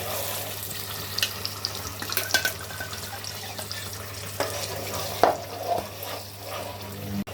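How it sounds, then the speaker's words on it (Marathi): Ground masala paste frying in oil for a Koli-style home meal, a steady low sizzle with scattered stirring clicks and scrapes of a spoon in the pan, close by, no talking. "तर आपण आता जस्ट वाटण बनवून घेतलेलं ते तेलावर टाकून घेतलेलं आहे"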